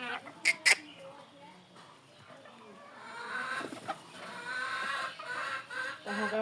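Domestic chickens cluck in a yard, with a couple of sharp calls near the start followed by a denser, continuous murmur of clucking and scratching.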